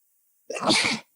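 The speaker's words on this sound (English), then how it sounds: "Oh, shit, I got to sneeze." One loud, close human sneeze, a sharp half-second burst breaking an otherwise silent moment.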